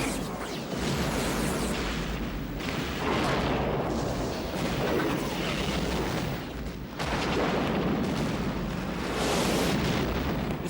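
Heavy booming film special-effects explosions, loud and nearly continuous, with rolling blasts that surge and fade in waves and no talking.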